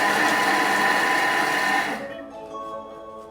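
A Thermomix processing a bowl of recipe ingredients at speed 5 gives a loud, steady whirring hum for about two seconds, then cuts off abruptly, leaving a quieter ringing tail and low background sound.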